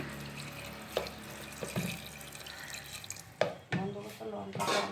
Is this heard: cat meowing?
no